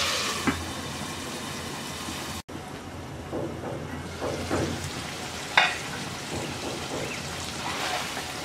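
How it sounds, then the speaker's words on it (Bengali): Green beans sauté in a pan over medium-low heat, giving a continuous close sizzle broken by a brief cut and a few stirring scrapes and knocks, with no talking. "এবার মিডিয়াম লো আছে শিমটাকে 5 মিনিট কষিয়ে নেব।"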